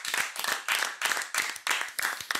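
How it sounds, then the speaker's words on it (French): Studio audience on a French TV talk show claps in steady bursts, a dense, loud round of applause pulsing roughly every third of a second with no talk over it. "on les applaudit."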